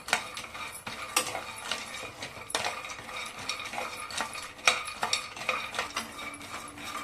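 Cashews dry-roasting in a pan for a health-mix porridge powder, stirred with a utensil that gives repeated light scraping and clinking, with scattered sharper taps over a steady soft rattle; no talking.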